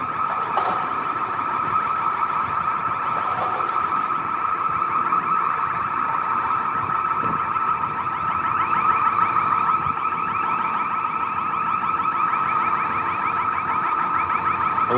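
Alarms blare continuously outside the Dwight D. Eisenhower building in Washington, DC at night: a loud, steady electronic wail with warbling tones that holds throughout, with faint street noise beneath.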